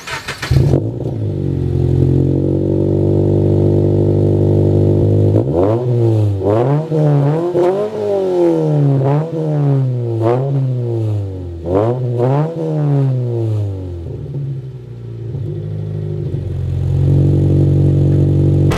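A 2018 Subaru BRZ idles, then revs repeatedly in sharp rising and falling bursts, its exhaust loud and close, before settling back to a steady idle.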